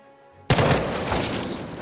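Gunfire in a video game: after near silence, an abrupt loud blast starts a dense roar of shooting that carries on steadily to the end.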